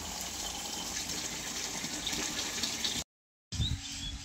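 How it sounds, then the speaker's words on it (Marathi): Water gushes steadily from a tap into a container, a loud continuous rushing pour that cuts off briefly and then resumes. "पाणी भरायला लागली आता."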